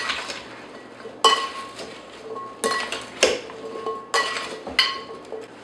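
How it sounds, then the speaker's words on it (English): Root vegetables are tossed with salt and pepper in a bowl, giving several separate bursts of clattering and clinking against the dish, each one sharp and then tailing off, close by with no voices. "Toss everything together."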